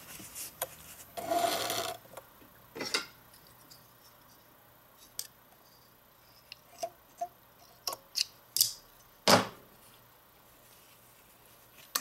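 A vintage Necchi BU sewing machine back tacks in a quiet room, giving a short burst of rapid stitching followed by a string of separate clicks and taps spaced a second or so apart.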